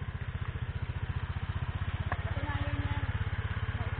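A motorcycle engine idles close by during a charity fun ride in Montalban, Rizal, a steady rapid putter throughout with faint voices underneath.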